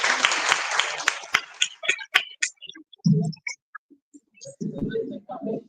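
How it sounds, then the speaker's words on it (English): Audience applause at an Alternative Mining Indaba gathering in Cape Town: a loud burst of dense clapping for about two seconds that quickly thins to scattered claps, followed by brief talk. "A round of applause."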